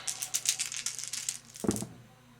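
Several dice rattle and tumble across a tabletop during a wargame turn, a quick clattering run close by that ends in a sharper knock as they settle.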